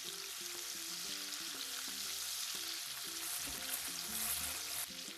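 Mustard oil heating and sizzling in a pan for chilli chicken, a steady close frying hiss with soft stirring under a faint melodic tune.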